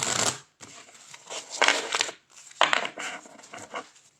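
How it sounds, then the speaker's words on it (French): A card drawn from a deck during a tarot-style reading, heard as several quick papery shuffles and riffles in bursts separated by short pauses, close and fairly loud, with no speech. "Ici, on va tirer une carte."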